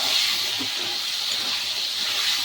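Potato pieces, salted and browned until reddish, fry in hot oil with a steady, even hiss that holds at the same level throughout, alone with no voices or other sounds.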